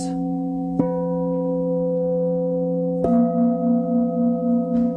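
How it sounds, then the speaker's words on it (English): Meditation gongs struck twice, each sharp hit blooming into a long sustained humming tone that rings on and beats gently, quiet and spacious with no talking. "As I sound the gongs for the next few moments"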